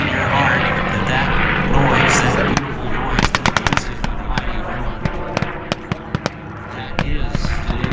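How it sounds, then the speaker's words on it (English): A P-51 Mustang warbird making a pass at the Columbus Airshow: a loud, roaring propeller engine drone throughout, overlaid with a rapid series of sharp popping bangs in the second half, close and powerful. "You hear the sound of this Mustang on this pass."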